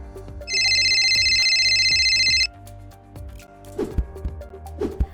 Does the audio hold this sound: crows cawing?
no